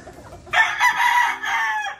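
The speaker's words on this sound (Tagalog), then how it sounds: "Yan yung manok." A rooster crows once, loud and close, a single drawn-out call lasting about a second and a half.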